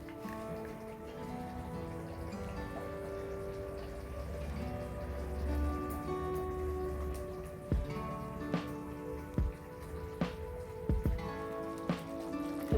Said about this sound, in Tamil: இப்போ மசாலா உப்பு போட்டோன்னே நல்லா மசாலாவை கிளறி விட்டுக்குவோம்